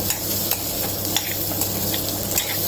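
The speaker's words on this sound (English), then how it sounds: "So you will have to do this, stir it around for at least another 10 minutes" Coconut milk curry bubbles at a boil while being stirred in the pan, a steady sizzling simmer with soft scraping strokes and occasional light clinks of the spoon.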